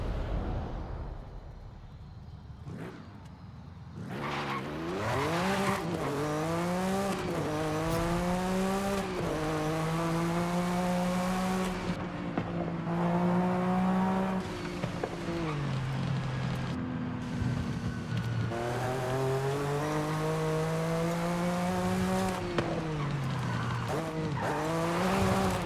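Toyota 86 in the Forza Horizon 5 racing game, its engine revving and rising through gears loudly and continuously, with tire squeal over the steady engine drone.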